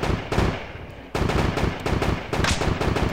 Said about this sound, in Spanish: Te están disparando de atrás, Carlos.